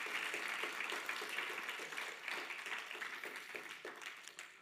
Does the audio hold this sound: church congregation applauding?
yes